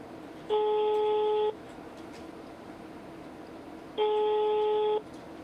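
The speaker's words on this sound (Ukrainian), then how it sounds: "На жоден дзвінок нам не відповіли." Busy signal on a call to a city prosecutor's office hotline in Kyiv: two steady tones, each lasting about a second and separated by a three-second pause, over a faint background hiss.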